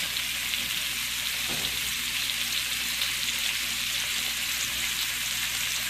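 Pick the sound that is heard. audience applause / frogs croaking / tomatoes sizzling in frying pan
tomatoes sizzling in frying pan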